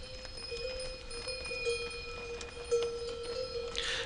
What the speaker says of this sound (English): If you listen carefully, you can hear that all of the yaks are wearing bells.